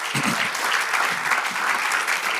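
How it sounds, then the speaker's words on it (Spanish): A church congregation claps together in sustained, even applause, a broad wash of many hands close by, with a few low thumps near the start. "De los aplausos a Jesús."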